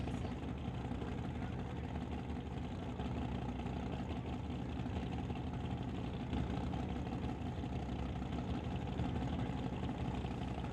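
Drag race cars idling before an Outlaw 275 semi-final, a turbocharged LS Camaro and a nitrous big block Chevy, producing a steady low engine rumble that is continuous, fairly distant and faint, with no talking.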